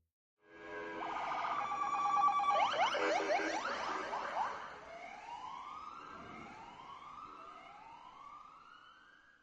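An ambulance siren wails loudly and close, with pulsing, echoing tones that rise and fall, then fade into repeated rising sweeps as the vehicle rushes a badly injured man to hospital.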